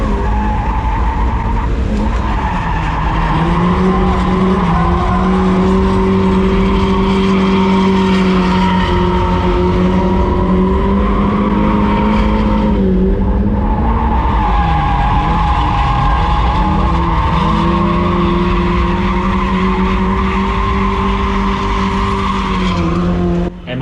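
A Toyota AE86 Corolla drifts around a racetrack, its engine droning loud and steady while long tire squeals run almost without a break for the whole stretch, with a second car following close behind.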